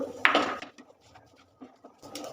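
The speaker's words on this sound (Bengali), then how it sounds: "চিনিটা দিয়ে আরও বেশ কিছুক্ষণ নাড়াচাড়া করে নিচ্ছি" A utensil scrapes and knocks against a pan while sugar is stirred into a carrot mixture for carrot sandesh, close and soft, in a few short irregular strokes with quiet gaps between them.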